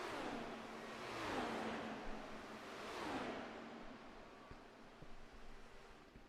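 IndyCar race cars in a racing video game roar past in two sweeping whooshes as engines throttle, with a steady broadband rush between them and no talking.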